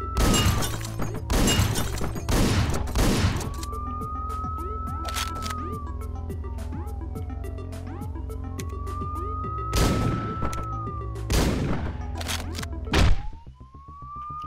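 Repeated loud, sharp shotgun blasts from the video game Hotline Miami, several spaced bursts over a synth-heavy music track with wavering siren-like tones.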